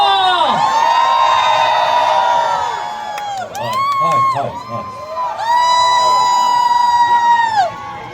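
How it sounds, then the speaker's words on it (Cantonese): A stage audience cheers to welcome actor Louis Koo, with loud sustained shrill shouts and whoops rising and falling in long held waves, close and continuous. "不如我熱烈掌聲歡迎今日嘅主角古仔古天樂"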